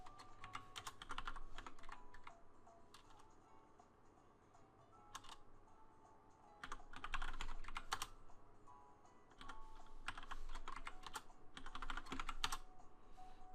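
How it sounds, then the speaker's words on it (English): Typing on a computer keyboard: close, crisp clicks in rapid bursts separated by short pauses, with no one talking. "just type in all of Magearna's stats here"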